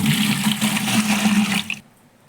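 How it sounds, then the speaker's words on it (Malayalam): Six litres of water pouring into a container for homemade dishwashing liquid, a steady close splashing rush that stops abruptly near the end. "ഇതിൽ ഞാൻ 6 ലിറ്റർ വെള്ളം എടുത്തു"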